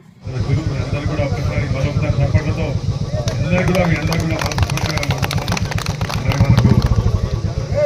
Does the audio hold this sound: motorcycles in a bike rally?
yes